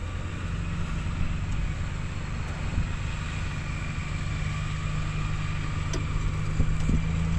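An off-road vehicle's engine idles low and steady in low-range drive with only a touch of throttle while helping a winch, a continuous drone with no talk.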